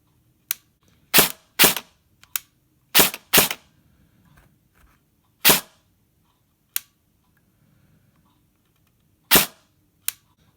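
A King Arms Daniel Defense Mk18 airsoft rifle fires single semi-auto shots, about a dozen sharp, loud cracks spaced irregularly, some in quick pairs, with silence between them.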